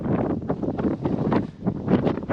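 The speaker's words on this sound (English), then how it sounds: "it's still very windy." Gusty wind on a Scottish mountain cliff edge buffets the microphone in loud, uneven rumbling bursts, constant throughout with no voices.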